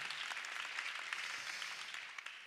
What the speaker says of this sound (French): Voilà, et applaudissez-les.